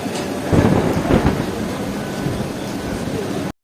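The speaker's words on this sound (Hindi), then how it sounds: "साथ ही बादल गरजना शुरू हुए, और साथ ही बारिश स्टार्ट हो गई है।" A deep roll of thunder in Islamabad swells and fades over a steady wash of rain, loud and close, ending abruptly in silence.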